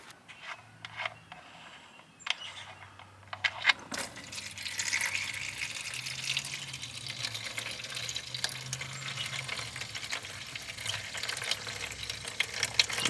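After a few clicks and taps, watery oil begins pouring steadily from a Honda Insight engine into a drain pan, a continuous splashing trickle that holds on without pause.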